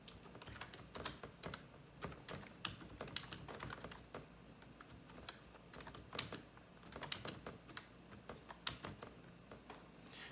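Keys on a computer keyboard are tapped quickly and unevenly to write out text, giving close, crisp clicks in bursts with brief pauses.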